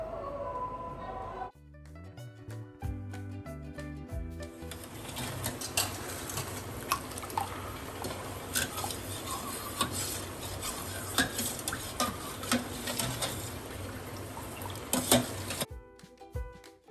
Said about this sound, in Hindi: ये डाल के अब मैं इसको पकने के लिए रख दूँगी। इसको साथ साथ चलाती रहूँगी ताकि क्रीम जो है वो भी अच्छे से मिक्स हो जाए दूध के साथ